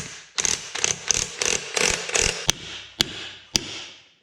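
A bolt on a tire bead breaker pressing a tooth against a steel rim is cranked with a wrench in six quick ratcheting bursts, then three sharp single clicks, close and loud.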